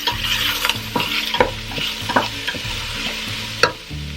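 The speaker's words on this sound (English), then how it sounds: "I'm going to add in the beef, and I want it to get seared." Beef sears in a dry pot with no liquid, sizzling and crackling steadily while a utensil scrapes and turns it in repeated strokes, close and fairly loud.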